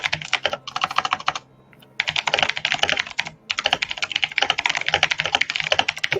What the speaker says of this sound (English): He is typing.